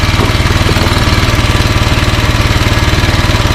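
A Royal Enfield Himalayan motorcycle engine with a carburetor being tuned idles close by in a loud, steady, evenly thumping beat with no talk over it.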